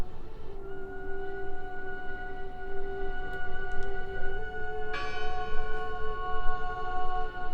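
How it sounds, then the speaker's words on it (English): A bell rings in the video game Draugen: a loud, resonant toll that hums and decays, with a second strike near the middle that renews the ringing over a low ambient rumble. "I heard the bell."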